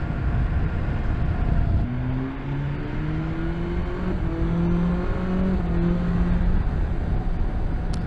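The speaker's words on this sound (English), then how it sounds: "when you go and do an overtake like that we just saw, I open up the throttle" A 2021 BMW S1000XR motorcycle engine rises in pitch under acceleration during an overtake, heard beneath steady loud wind roar as the revs climb and hold.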